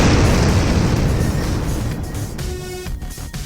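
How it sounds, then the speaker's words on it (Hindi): A bomb detonated by remote control in an animated Chacha Chaudhary comic goes off with a loud, sustained rumbling blast that fills the clip and slowly fades, with no talk over it. "बटन दबाते ही बम एक जोरदार धमाके के साथ फट"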